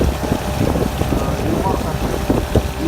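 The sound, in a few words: Yamaha 9.9 outboard motor running on PVC boat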